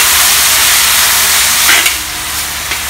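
Beef stir fry in a hot wok with ginger, sizzling loudly as soy sauce and oyster sauce go in, a dense close hiss that eases slightly toward the end, with a couple of light stirring knocks.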